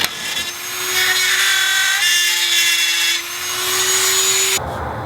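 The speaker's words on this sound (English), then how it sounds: "So we'll go ahead and cut this out using a Dremel, and then go from there." A Dremel rotary tool cuts an opening for a reverse light in a Jeep Gladiator, giving a close, steady high-pitched whine with a grinding rasp for several seconds before stopping abruptly.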